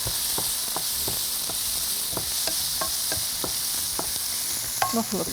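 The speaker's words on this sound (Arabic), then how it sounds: "نخلط كل المكونات مع بعض" Fish stew ingredients with crushed chili being stirred in a sizzling pot, a steady frying hiss under repeated soft scraping strokes about every third of a second, close and moderately loud, no talk.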